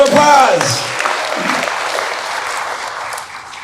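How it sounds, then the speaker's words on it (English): Audience applause for a guest named Calvin at a real estate investor event, a crowd clapping steadily over a few seconds, with a speaking voice at the start and the clapping thinning slightly toward the end. "Calvin, big round of applause"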